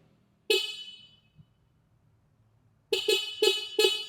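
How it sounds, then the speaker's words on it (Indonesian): Horn of a QT electric motorbike: one sharp beep, a pause, then four quick loud beeps in a row, close by and clear with no talking. "itulah suara klakson dari motor listrik QT"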